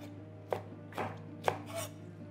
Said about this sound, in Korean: 가니쉬로 사용할 청고추, 홍고추도 어수 썰어줍니다.